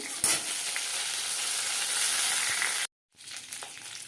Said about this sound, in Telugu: కరివేపాకు కూడా వేసుకోండి అవి అన్నీ వేగుతాయి